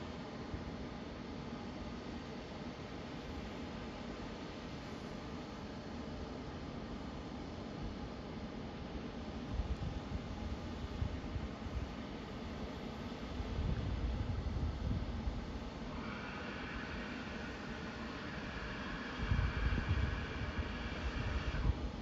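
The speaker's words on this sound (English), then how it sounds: "What is this noise? Always this noise from the airplane." Inside the cabin of an Avianca airliner after an unplanned landing at Ponta Delgada in the Azores, a steady broadband roar of engine and air noise fills the space, swelling in a few louder surges with a faint hum.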